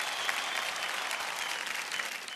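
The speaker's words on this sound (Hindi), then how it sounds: "एक बार फिर तालियों के साथ हम इनका स्वागत करें" Studio audience on Kaun Banega Crorepati clapping to welcome guests, a moderately quiet but even patter of many hands throughout, with no voices over it.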